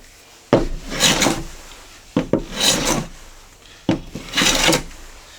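A Stanley Bedrock 605 hand plane shaves wood in three distinct strokes, each a close, crisp rasping swish beginning with a sharp bite into the board, separated by brief pauses.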